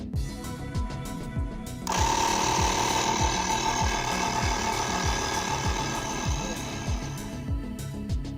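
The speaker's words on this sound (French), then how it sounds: "Tu remarqueras que cette station de gonflage est assez bruyante." Noisy tire inflation station pumping air, a rapid mechanical chugging pulse with a loud hissing rush of air that starts partway through and runs steadily under the pumping.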